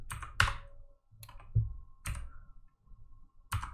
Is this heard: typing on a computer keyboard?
yes